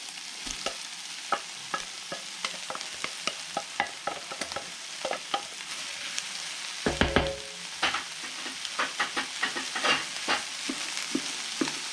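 Rice and prawns for nasi goreng are stirred in a hot pan, with scattered scraping clicks and taps of the utensil over a soft sizzle, close and fairly quiet, with a busier burst of stirring partway through.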